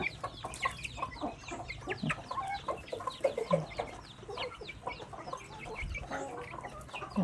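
Flock of about ten laying hens being fed at a Thai backyard pond with red azolla, clucking busily and continuously at close range, with overlapping chatter and occasional louder squawks throughout.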